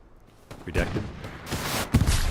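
Scattered gunfire in the Hell Let Loose video game during a 49-versus-49 battle, with a few distant shots and rumbling bursts mixed with a voice and background noise, rather muffled overall.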